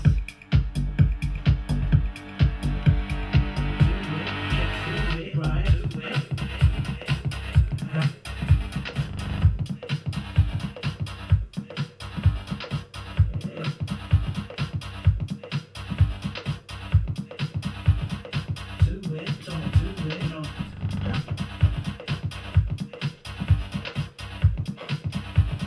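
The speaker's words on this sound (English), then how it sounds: "I've been working on a dance tune" A dance tune built with chopped vocal snippets pulses along with steady beats and a dense, full mix, running continuously and loud throughout.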